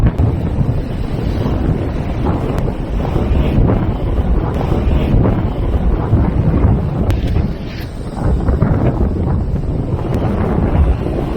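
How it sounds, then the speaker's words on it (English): Strong wind at sea roars steadily across the microphone from a fishing spot with heavy swell, with a constant rush of churning water and waves beneath it, loud and unbroken. "The wind is picking up, it's quite a lot of swell"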